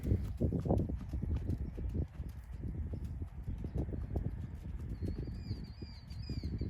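A ridden horse's hooves thud in a steady walking rhythm on soft ground, close and continuous, with a few high bird chirps in the background.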